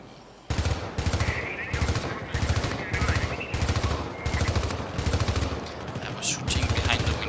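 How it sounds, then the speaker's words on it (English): Rapid automatic gunfire from the video game Syndicate comes in about eight loud, evenly spaced bursts of sharp cracks, each lasting roughly half a second, with no talking over them. "I was shooting behind the window."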